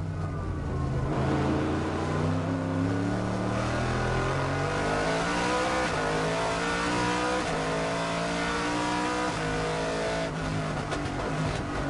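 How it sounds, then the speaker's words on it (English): Onboard V8 GT1 race car engine at the 2011 FIA GT1 championship race in Beijing, run in wet conditions. A loud, continuous engine note revs up and down through gear changes, close and alone, with no talk. "Lovely noise from that V8."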